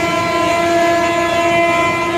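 A near-empty Madurai–Chandigarh superfast passenger train runs at night, delayed 40 minutes, with a loud steady interior rumble and sustained tonal hum throughout and no voices.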